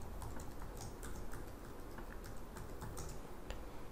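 A password being typed on a computer keyboard, with a steady stream of close, quick key clicks and taps continuing throughout at low level, heard on its own with no talk.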